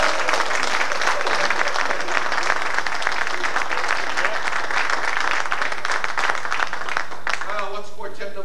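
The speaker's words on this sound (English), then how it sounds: "Okay, a round of applause." An audience at a quartet singing workshop claps loudly and continuously, a dense close burst that thins near the end as a voice begins to speak.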